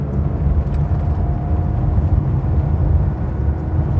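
A Porsche 911E with a dogleg gearbox driving, its engine and road noise a steady, fairly loud low drone throughout, heard from inside the car with no talking.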